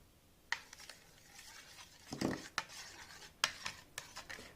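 Utensil scraping and clinking against a bowl while a Moroccan marinade with garlic for a lamb shoulder is stirred, a few sharp taps and rubbing strokes spread over several seconds, close and fairly quiet.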